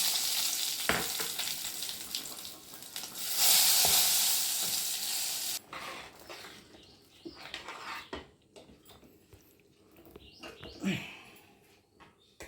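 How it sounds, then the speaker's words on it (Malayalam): Curry leaves and dried chillies hit hot oil in a heated iron wok for a green peas curry, giving a loud, close crackling sizzle that eases into quieter spitting and stirring scrapes. "ചീനച്ചട്ടി ചൂടായിട്ടുണ്ട്, അതിലോട്ട് എണ്ണ ഒഴിച്ച് കൊടുക്കാം. കരിവേപ്പിലയും മുളകും കൂടി ഇട്ട് കൊടുക്കാം."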